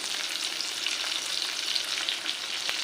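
Green chilies hit hot oil in a pan where amaranth leaves are frying, giving a steady, close, bright sizzle with fine crackling and no voices.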